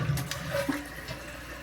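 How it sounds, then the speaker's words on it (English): A household toilet with a Fluidmaster fill valve flushes, producing a close, steady rush of draining water that flows straight into the tank refilling, with no talking. "I'm gonna flush it."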